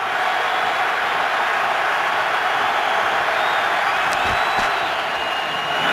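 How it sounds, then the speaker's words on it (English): Dense roar of a stadium crowd at a night Raiders football game against the Chargers, a constant broad wash of noise with faint cheers rising through it. "Great crowd here tonight"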